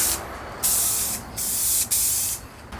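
Spray can laying primer onto a new faceplate for a combo amp built from a monitor wedge, in three loud, steady hissing bursts separated by short pauses.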